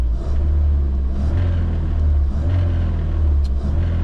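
A Classic Mini Cooper RSP engine idles steadily while warming up, a loud, close, continuous low rumble with slight fluctuations in pitch and no voices.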